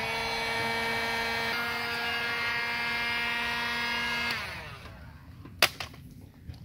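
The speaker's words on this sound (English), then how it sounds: "now I'm going to use the heat gun and just tighten this down." A heat gun blows a steady whining hum with a strong tonal drone while shrinking heat shrink tube over a wire, then cuts off, followed by a few sharp clicks and handling knocks.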